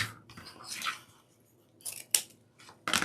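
Scissors snip through deco mesh ribbon while trimming a ruffle wreath, several sharp crisp cuts spaced unevenly, close and fairly quiet against a silent background.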